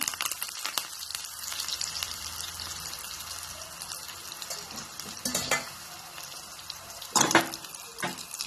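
Curry leaves crackle and sizzle in hot tempering oil for dahi vada, with a steady close frying hiss, a few sharp pops and light stirring clinks of a pan.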